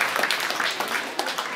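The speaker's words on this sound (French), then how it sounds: "donc on peut l'applaudir aussi bien fort" Applause rises for a recipient at a judo awards ceremony, a moderate indoor patter of many hands clapping, steady and fairly close, with no talk over it.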